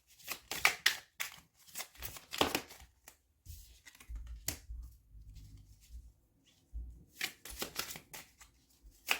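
Oracle cards from a small crystal oracle deck handled and shuffled close by, with quick papery flicks and slaps in bursts separated by short pauses, and no voices.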